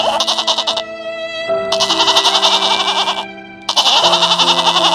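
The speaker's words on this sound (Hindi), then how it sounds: "अरे बेचारी बकरी" An injured goat lying by a forest path bleats in a string of wavering, high-pitched cries with short gaps, close and clear, with no voices.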